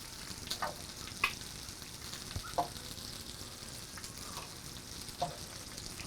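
Bacon frying in a pan for homemade burgers gives a faint, steady sizzle with a few scattered pops and crackles, and no one talks.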